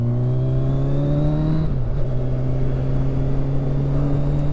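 A Kawasaki Ninja 1000SX motorcycle rolling slowly along a country road, its engine droning at a steady low pitch with a brief dip around the middle, mixed with constant wind rush, loud and close.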